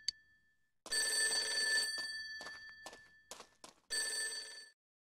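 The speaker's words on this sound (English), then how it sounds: "Phone's ringing." A telephone rings in the video game Persona 4 Golden. It sounds as two clear electronic ring bursts with a short quiet gap and a few soft knocks between them.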